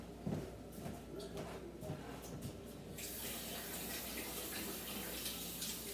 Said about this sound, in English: Okay, let me wash my hands.